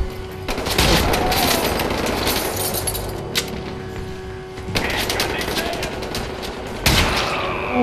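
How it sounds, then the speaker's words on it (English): Shotgun blasts boom repeatedly in the Wolfenstein shooter, with glassy crashes and debris amid dense continuous combat noise, loud and close, including a sharp fresh blast near the end; talk runs under the gunfire. "this shotgun is brutal"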